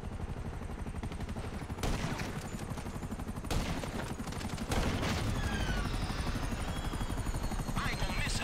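Helicopter rotor chops loudly and steadily in Grand Theft Auto 5, joined by bursts of gunfire and people talking during an aerial chase.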